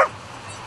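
A search-and-rescue dog gives a single short, close bark during a person-search training exercise, signalling that it has found a hidden person.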